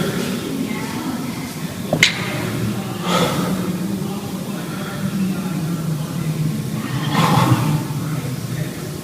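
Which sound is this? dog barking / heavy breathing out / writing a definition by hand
heavy breathing out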